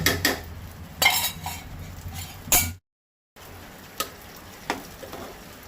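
A spoon stirs cooked raw jackfruit into a Goan small prawn curry in a pot, giving sharp metallic scrapes and clinks against the pot at irregular intervals, fairly close and otherwise quiet.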